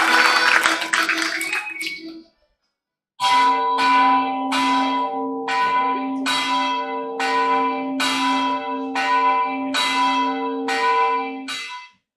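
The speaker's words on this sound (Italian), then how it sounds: "Come mai che sono le campane a ste ore di notte?" A brief noisy burst, a second of silence, then church bells ringing at night in a steady rhythm of about ten loud, ringing strikes that sustain between hits.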